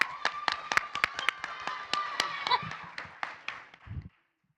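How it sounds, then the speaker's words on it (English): Audience members at a youth behavioral health panel clap in sharp, separate claps that thin out over about four seconds. The clapping is close and fairly sparse rather than a full ovation. "Hey, let's clap it up."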